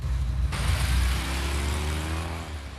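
A car pulls away on a street in 1980s England, its engine humming and rising under a broad wash of noise that stays loud and steady throughout.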